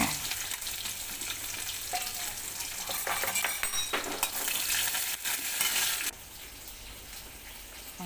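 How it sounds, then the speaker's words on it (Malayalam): Mustard seeds fry in hot oil for a chicken curry, a loud, close, crackling sizzle with sharp popping bursts and spoon-stirring clatter, easing off near the end, with no talk. "കടുക് വറക്കുവാണേ."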